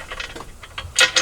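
A ratchet tightens a bolt on a CFMOTO ZFORCE 950/1000 Sport front bumper, quick close clicking strokes that end in a couple of louder clicks.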